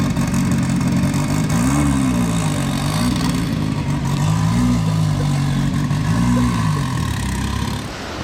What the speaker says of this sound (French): C'est vraiment une voiture de rallye sur la route, hein.